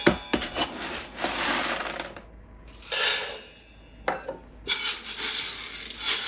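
Two cups of dry beans pour into an Instant Pot, several rattling, pattering bursts of hard beans hitting the metal pot, each separated by short quiet gaps.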